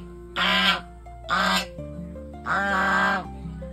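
Geese on a farm honk in three loud nasal bursts, the last one longer, with faint bird calls in the gaps between them.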